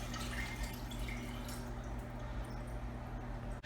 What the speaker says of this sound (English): if you lift it up, you can hear it start draining the P-trap